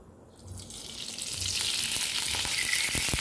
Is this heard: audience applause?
no